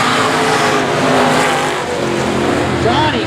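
Race cars roar back up to speed together on a green-flag restart in a pro main event, a dense, loud engine wash with faint tire squeal, while a voice carries on talking over it.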